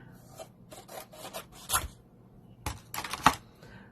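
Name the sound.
trimming card paper down to size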